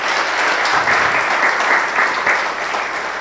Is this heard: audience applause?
yes